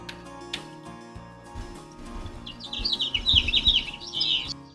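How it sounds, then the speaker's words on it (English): Songbird chirping in quick bright bursts over a low musical background, the calls growing busier and louder in the second half. "it's definitely some type of bird. Sounds like they're just singing."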